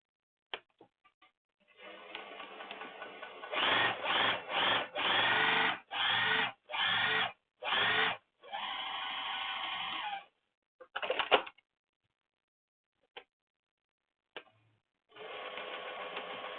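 Sewing machine stitching a leather tote pocket, several loud bursts of motor whir in short pulses and longer runs, separated by pauses with faint clicks, close.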